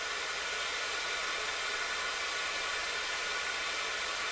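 Venturi vacuum generator on a vacuum chamber running with a constant, loud, close hiss of rushing air that holds steady with no pauses throughout.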